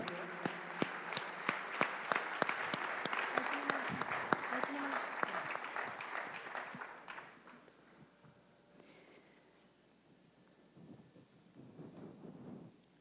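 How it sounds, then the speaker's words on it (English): Concert audience applauds performers on stage, a dense burst of clapping that fades out after several seconds, followed by quieter room sound and a voice speaking. "Let's give them a big round of applause."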